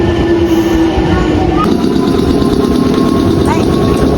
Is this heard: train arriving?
yes